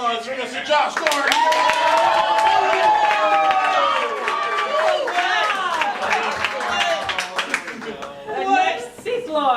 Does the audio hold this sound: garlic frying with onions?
no